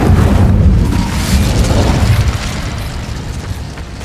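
The Incendio fire spell cast in Hogwarts Legacy gives a loud, rumbling burst of flame that is heaviest in the first couple of seconds and then fades into a steady roar.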